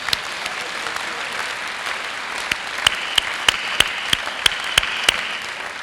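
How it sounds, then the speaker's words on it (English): Audience applause at a presentation event: a soft, steady patter of many hands from a sizeable crowd, with a run of sharper, closer claps punctuating it toward the end. "let's everybody give everybody in the audience a great big round of applause"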